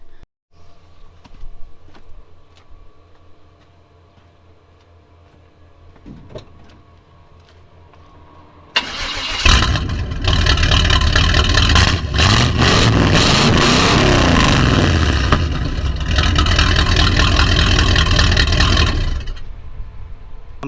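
A 1996 Chevy S10 pickup with a swapped-in V8 idles quietly through its new exhaust, then roars loudly with a sustained rumble for about ten seconds before settling back down.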